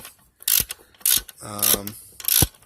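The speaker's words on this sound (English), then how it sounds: "So you basically tighten it down and compress the spring" A valve spring compressor tool is tightened down on a Honda G23 VTEC cylinder head, producing several loud, separate ratcheting and metallic grinding bursts with short pauses between them, close up, with someone briefly speaking.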